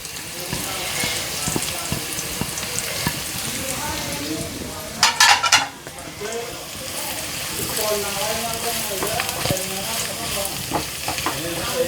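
Ground spices, coriander, chilli, pepper, turmeric and garam masala, fry in a pan for a fish curry, a busy sizzle with stirring scrapes and a sharp hissing burst midway.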